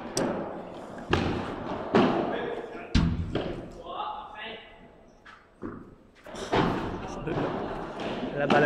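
A pelota ball smacks hard against the walls and ceiling of a court during a French championship semi-final, giving several loud, sharp thuds spaced about a second apart, with crowd murmur and a commentator talking between the impacts.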